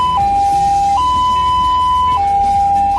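An ambulance siren alternates between two steady tones like a railway crossing bell, loud and close, switching pitch at slow even intervals over engine rumble.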